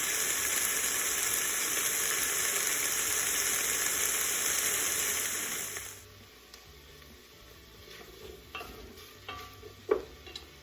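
Carrots and onions sautéing in a pan for three-bean minestrone, a loud steady sizzle for about six seconds that then drops away, leaving quiet stirring clinks and scrapes.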